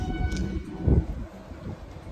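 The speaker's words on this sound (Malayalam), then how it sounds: "അപ്പോൾ ട്രെയിൻ വീണ്ടും നീങ്ങി തുടങ്ങിയിട്ടുണ്ട്" A train in Kashmir rumbles low and close, with a few heavy clunks as it begins rolling, over about two seconds.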